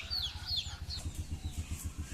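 Chickens near a small chicken coop cluck in a quick, rhythmic series of low calls, with higher chirps at the start.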